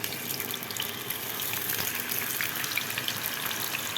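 Potato slices for homemade chips sizzle in hot oil in a frying pan, a dense, steady hiss and crackle, close and continuous throughout, with no talking.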